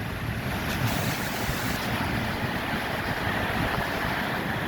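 Strong storm wind gusts and driving rain lash a handheld phone mic in Charters Towers, a continuous loud roaring rush with heavy buffeting and no voices.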